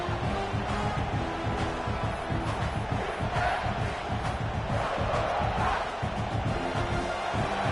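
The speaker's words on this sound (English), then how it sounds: "The crowd really making some noise now" A huge stadium crowd in a college football video game, South Carolina versus Clemson, roars steadily, a dense, continuous wall of cheering and shouting with no break.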